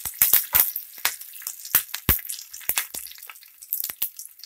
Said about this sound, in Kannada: ಕರಿಬೇವು ಹಾಕ್ತಾ ಇದ್ದೀನಿ.